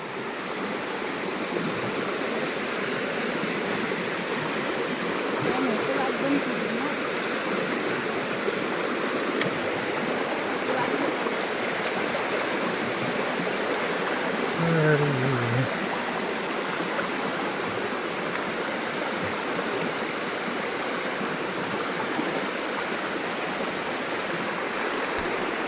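A stream runs over rocks beside farm fields, a continuous close rushing and burbling of water throughout, with no talk heard.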